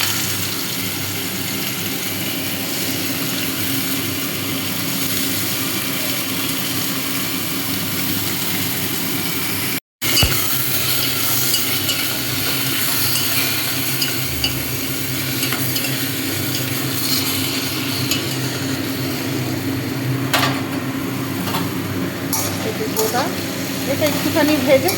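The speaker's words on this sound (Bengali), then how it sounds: "এদিকে এখন লাউ চোকলাটা ভাজা করবো" Potatoes and bottle gourd peel fry in a pan with a steady, close sizzle and occasional stirring scrapes. A brief cutout interrupts it partway, then the frying continues as a voice talks over it.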